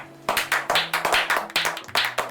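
A quick run of about eight crisp, close hand claps in an uneven rhythm, like a short canned clapping effect, with nothing else heard.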